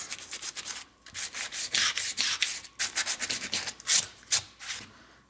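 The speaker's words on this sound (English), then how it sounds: "This is a 150 fine grit. It just kind of erases those cracks." Fine 150-grit sandpaper rubs over dry plaster in quick, uneven back-and-forth strokes, a close, scratchy hiss that pauses briefly between bursts, with no voices.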